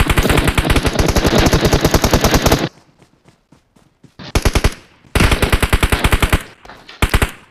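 Rapid automatic gunfire from a video game, loud and close, in long sustained bursts broken by quieter single shots and short gaps, then more full bursts.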